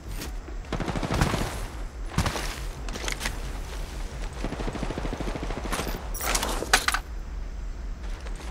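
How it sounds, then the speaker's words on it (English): Dense game gunfire in Apex Legends Mobile, bursts of automatic shots and sharp cracks rattling throughout, loud and busy with metallic clatter and several heavier volleys. "The enemies are shooting at me."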